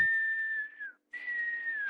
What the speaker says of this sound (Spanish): O el de un silbido.